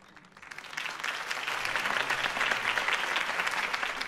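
A crowd's applause builds from quiet to a full, sustained clapping that continues evenly.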